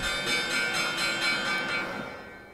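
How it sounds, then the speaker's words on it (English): The New York Stock Exchange bell, used as a dark, tolling element in a film score, rings out in a sustained, resonant tone with slow pulsing swells that gradually fade away, heard alone. "So once you've got this bell, the New York Stock Exchange bell,"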